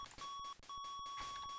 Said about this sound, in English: that beeping noise has gotta go